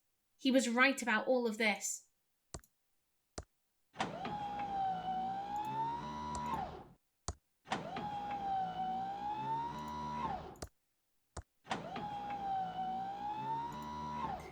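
A machine in the game Thimbleweed Park whirs in three repeated tonal bursts of about three seconds each, separated by brief silences and clicks, after a short stretch of speech.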